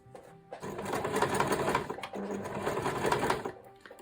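A sewing machine stitches a zippered make-up bag, running in two close, steady bursts of rapid needle clatter separated by a short pause.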